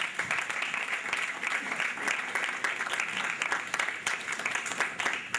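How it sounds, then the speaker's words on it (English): A crowd at a children's book reading event in Nigeria applauds warmly, a dense, steady wash of clapping hands that holds at an even level throughout. "Can I have a round of applause for him?"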